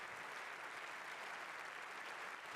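A standing ovation fills the German parliament, a dense, steady wash of many hands clapping at once, loud and unbroken with no voices standing out.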